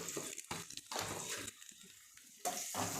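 Onions sauté in a pan for a drumstick leaf stir-fry, a soft crackling sizzle that comes and goes in short bursts between stirring, faint and close, with quiet gaps between them.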